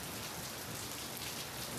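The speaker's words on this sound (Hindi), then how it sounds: "ताबड़तोड़ बारिश आ रही है एकदम।" Heavy monsoon rain pours down outdoors in the morning, a dense continuous roar of drops hitting surfaces with no break; any thunder stays buried in the steady downpour.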